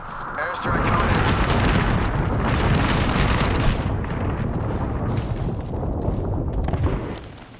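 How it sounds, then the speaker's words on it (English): Airstrike explosions in a video game firefight: heavy booms erupt after a brief lead-in and roll on densely for several seconds with crackling bursts before tapering off, while a voice is faintly audible underneath. "Airstrike coming in."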